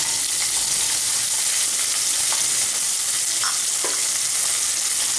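Chopped onion and garlic sautéing in a pan for creamy mushroom pasta hiss in a loud, dense sizzle, with a few sharp clicks and scrapes from stirring, close up and without talk.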